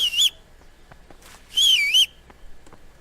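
Whistling in Kingdom Come: Deliverance comes as two loud, close, warbling bursts, one short and one longer, separated by quiet with faint clicks.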